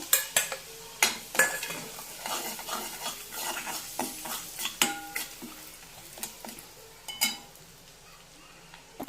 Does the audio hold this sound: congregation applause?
no